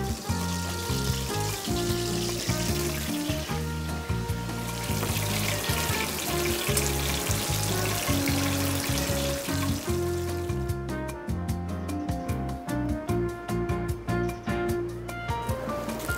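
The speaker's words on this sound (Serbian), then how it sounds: "Dovoljno je malo pobrašniti u oštrom brašnu i staviti u vrelo ulje." Floured sole fins fry in hot oil with a dense, continuous sizzle and bubbling, loud and close, and a faint watery rush partway through, with no talk.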